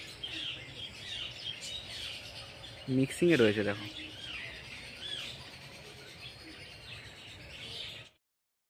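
Birds chirp and call intermittently at a mini zoo, light high tweets scattered through the stretch, with a brief burst of speech partway through.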